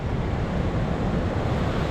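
Sea waves wash onto a beach in Rarotonga, Cook Islands, a steady broadband surf roar mixed with wind noise on the microphone, constant and fairly loud with no talking.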